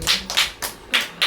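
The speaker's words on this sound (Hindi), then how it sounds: "ताली बजाओ ना।" People clap hands during a church fasting prayer service, five short, sharp claps spaced roughly a quarter second apart, fairly close and with no talk over them.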